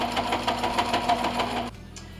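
A sewing machine stitches through a Harbor Freight moving blanket for a solar panel bag, with a fast, even mechanical rhythm that runs for under two seconds and then stops.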